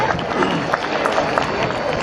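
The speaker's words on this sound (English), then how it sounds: "How about a big round of applause to them?" A crowd at an evening Greek festival in London, Ontario applauds the organizers: dense, crackling clapping runs continuously throughout the short burst, with a voice faintly mixed in.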